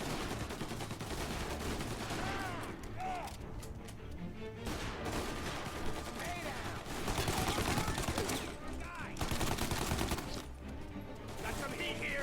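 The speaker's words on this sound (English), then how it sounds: "I'm just gonna pull out the Tommy gun then" Tommy gun fire in Mafia: Definitive Edition, loud sustained bursts of rapid automatic shots with brief pauses between volleys, mixed with other gunfire and battle noise.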